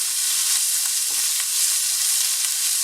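Garlic and onion sauté in a hot pan for chop suey, giving a steady, bright crackling sizzle with a few soft scrapes of a utensil, close and continuous.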